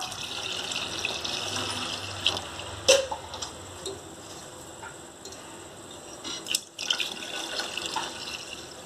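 Two cups of milk are poured into a pan on the stove for a chocolate custard pudding, a steady close liquid pour with a few light clinks and knocks.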